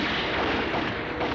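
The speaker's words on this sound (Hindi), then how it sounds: "पुलिस ने गोलियां बरसाना शुरू कर दी" Police gunfire in a violent crackdown, rendered as a dense, continuous roar of rapid shots and booming blasts, loud and close throughout with no voices.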